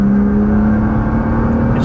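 A Nissan GT-R pulls hard after an upshift on a race track, its engine holding a loud, steady, rising drone close up from inside the car, with no gaps.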